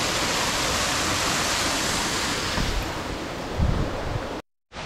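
Steady rushing of a small waterfall on Mount Taishin in the Konan Alps, Japan, close and continuous, broken by a brief cut near the end.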